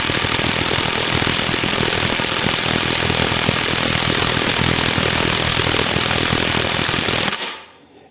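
A cordless impact wrench, a compact non-Makita model, hammers on its first speed setting in a loud, steady buzzing rattle that runs for about seven seconds, then cuts off abruptly.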